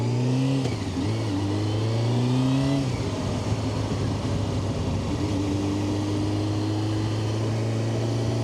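A Honda CBR600F motorcycle's four-carburetor engine drones loudly and continuously, its pitch dipping and climbing as the revs change, then settling into a steady cruising hum.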